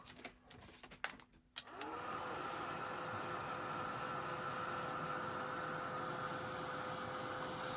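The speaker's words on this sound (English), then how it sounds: "we just get our heat gun again, and we just heat the side" A heat gun melts embossing powder over Versamark ink on a handmade Christmas card. A few soft handling knocks come first, then the gun starts and runs as a steady, close, loud blowing whoosh with a faint whine.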